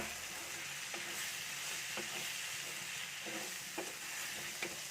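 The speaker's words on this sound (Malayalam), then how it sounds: "ഞാൻ ഈ മുളകും മല്ലിയൊക്കെ കൂടി പൊടിച്ചത് ഇതിലോട്ടാണ് ഇട്ട് കൊടുക്കുകയാണ്. നല്ലപോലെ അത് കൂട്ടി ഇളക്കിയിട്ട്" Ground chilli and coriander masala stirred into sizzling onions and tomatoes in a pan for a chicken dish, with a continuous soft frying hiss and occasional spoon scrapes and taps, close by.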